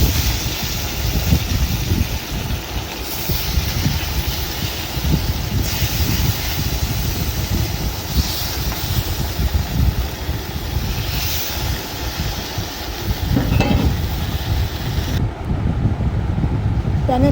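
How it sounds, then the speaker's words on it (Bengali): Koi fish frying in hot oil in a pan, village-style cooking, making a loud, continuous broadband sizzle that carries on steadily throughout without talk. "পরের যে মাছগুলো আছে এভাবে আমি প্যানে দিয়ে আবারও ঠিক"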